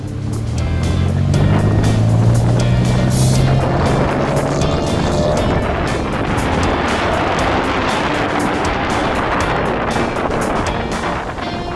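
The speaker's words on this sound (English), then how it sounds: "between the traffic on the beach and the wind, this was one of the most unpleasant beach experiences" Vehicles driving along Pismo Beach near the Oceano campground, a steady loud engine drone with one passing vehicle rising and falling early on, mixed with continuous wind buffeting the microphone and surf for the whole stretch.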